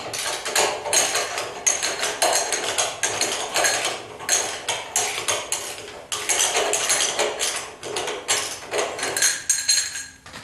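A wrench with a small extension works the 9/16 nuts on the rear crash bumper of a 1976 Corvette, giving close, repeated metallic clinks, rattles and clanks that continue steadily throughout without any talking.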